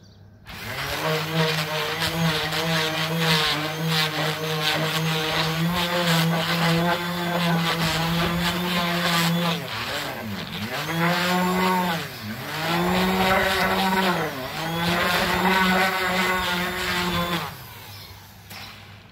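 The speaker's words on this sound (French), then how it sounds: "j'ai pris un casque pour poncer parce que sinon ça fait mal aux oreilles" Power sander working a surface smooth, a loud, close, sustained whine with strong harmonic tones that dips briefly in pitch twice as pressure changes, then stops near the end; no talk.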